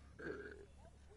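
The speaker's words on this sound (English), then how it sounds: "Successfully burped myself." A single short, low belch sounds close and fairly quiet, then fades into faint background noise.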